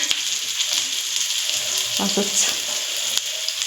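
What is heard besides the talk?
food frying in a pan until reddish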